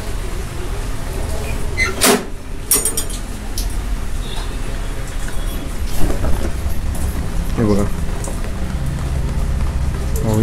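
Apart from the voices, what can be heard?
rain falling outside with thunder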